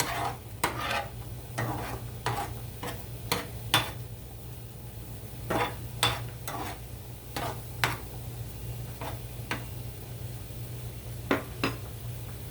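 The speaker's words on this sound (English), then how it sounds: "just stir this up" Homemade Alfredo sauce simmers in a pan under a low hiss while a utensil stirs it, scraping and clinking against the metal at an irregular pace, close and without talk.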